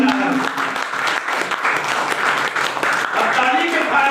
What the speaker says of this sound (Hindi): तो एक जोरदार तालियों से वेलकम करते हैं।